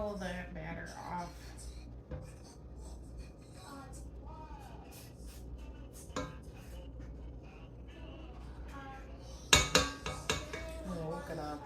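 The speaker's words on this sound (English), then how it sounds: "I'm gonna use this latch here again to pull this up and scrape down my attachment." A spatula scrapes cake batter off a deluxe stand mixer's attachment, with several light clinks and a sharper cluster of metallic knocks near the end over a steady low hum, while a person talks throughout.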